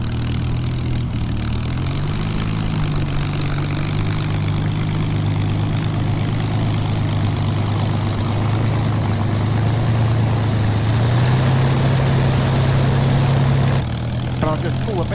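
Spitfire ML407 piston engine and propeller running steadily, a loud continuous low drone that shifts pitch slightly a couple of times and drops away near the end, heard close up on the ground.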